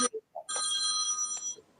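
A mobile phone rings indoors with one loud, bright electronic burst lasting about a second, with brief speech sounds just before it.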